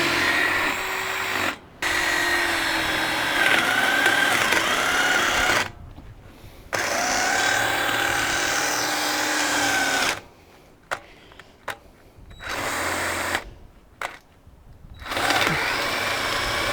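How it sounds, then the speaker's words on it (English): A battery-powered drill bores holes while a field drag is being built, its motor whirring in loud sustained runs broken by short pauses and a few quick bursts. "Okay, so drilled a hole here and here"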